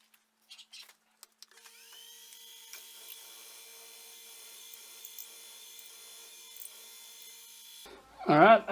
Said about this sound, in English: let's go ahead and get this drilled up